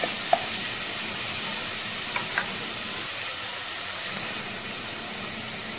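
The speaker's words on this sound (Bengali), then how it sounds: "এখন আমি আদা রসুনটাকেও হালকা ভেজে নেব" Chopped ginger and garlic frying with lightly browned onions in a pan for a mutton curry, giving a steady, even sizzle throughout with a few faint clicks of utensils.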